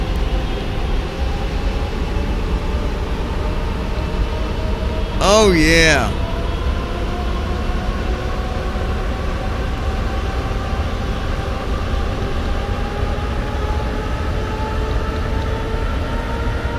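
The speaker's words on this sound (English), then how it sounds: "Listen to them engines, fellas." Jet engines of a Boeing 747-8 spool up for takeoff from Heathrow, a loud steady roar with rising whining tones, heard from inside, with a brief exclamation partway through.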